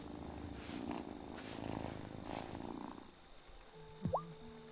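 A cat purrs steadily and close up for about three seconds in the video game Wylde Flowers, then a brief tonal chirp and electronic blips sound over a faint hum.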